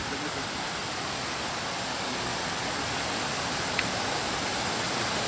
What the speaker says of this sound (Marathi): तुम्हाला आवाज ऐकू येत असेल पाण्याचा